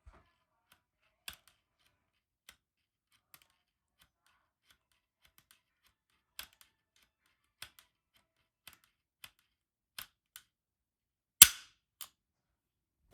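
Repeated sharp mechanical clicks from a Walther PDP pistol trigger bar striking a sticky, uncleaned and unlubricated safety plunger, sparse and irregular over quiet, with a louder snap near the end.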